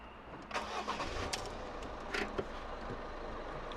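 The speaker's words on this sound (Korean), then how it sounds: "시동을 걸어 볼게요" A Citroen C4 Cactus engine cranks briefly and catches, settling into a steady low idle; a few clicks and clunks are heard near the start.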